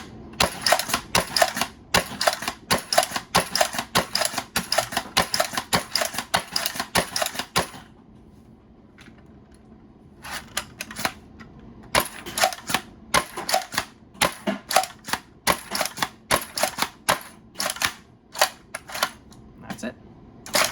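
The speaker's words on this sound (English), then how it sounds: "let's shoot it this way so you can sort of see the darts here" Low-hardware Nerf blaster firing foam darts in quick repeated bursts of sharp, close clicks and thwacks, with a short quiet gap partway through and faint talk beneath.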